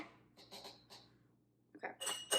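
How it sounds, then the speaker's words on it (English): Faint, quiet clinking of ice against glass as a pumpkin protein shake is stirred with a straw, in short bursts, a pause, then a brighter flurry of rattling clinks near the end. "Let me mix it up a little bit with my straw because it's a little bit separated."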